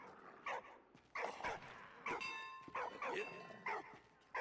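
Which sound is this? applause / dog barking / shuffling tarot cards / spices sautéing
dog barking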